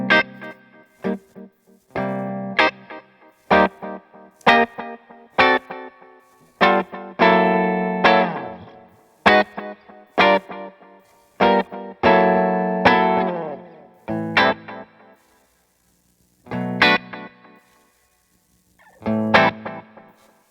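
Electric guitar phrases played through a VVco Delayrean delay pedal with reverb, notes repeating and ringing out between picked chords, with short gaps of silence.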